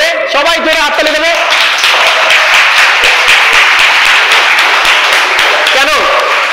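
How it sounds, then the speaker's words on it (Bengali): A room full of people clapping hands together loudly and continuously, a dense crackle of applause with voices speaking and calling out over it. "সবাই একটা হাততালি দেবো জোরে, সবাই জোরে হাততালি দেবো"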